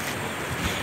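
Water of the Sabangan River in San Rafael West flowing at a picnic spot, heard as a brief, steady rushing wash with faint wind, no voices.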